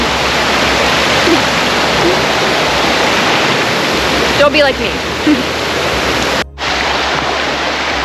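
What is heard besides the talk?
river water flowing at trail crossing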